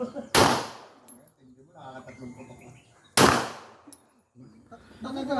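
Two sharp, loud gunshots crack a few seconds apart, with quieter talking and background noise between them.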